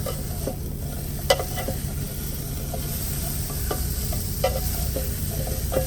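Potatoes and eggs fry in oil in a pan inside a semi truck, giving a steady close sizzle, while a utensil stirring through them adds scattered scrapes and clicks, with no talk.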